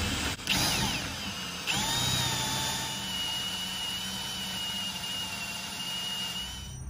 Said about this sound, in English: So I'm going to drill through